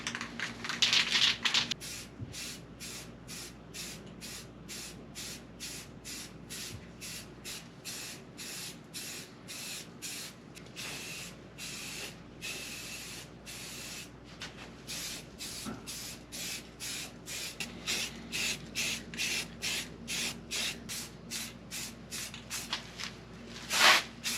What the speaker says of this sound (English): we're just going to give it a light first coat of this primer